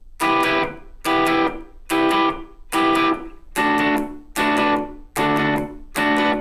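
Reggae rhythm guitar played with down-up strums left ringing rather than muted, eight bright, loud chords falling on a steady even pulse, each one sustaining for a moment before the next, with no voice over it.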